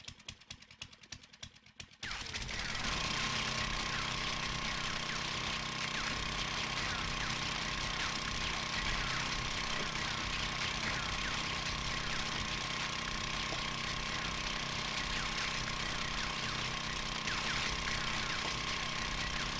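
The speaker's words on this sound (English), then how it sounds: "I'm not going to talk while the auger's going" A motorized auger in the video game 7 Days to Die drills continuously with a loud, steady, grinding engine drone that starts after a few seconds of quieter clicking and runs unbroken to the end.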